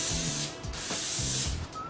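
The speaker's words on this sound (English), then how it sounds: "make sure you're always sanding with the grain" Steady rasping strokes of sandpaper hand sanding a clear coat finish on wood along the grain, repeated in a back-and-forth rhythm, close and fairly loud with a broad hissy texture.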